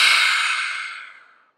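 A long audible exhale during yoga practice, a single soft breathy rush that starts fairly strong and fades out smoothly over about a second and a half, close and alone.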